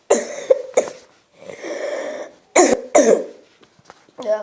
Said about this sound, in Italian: tossito.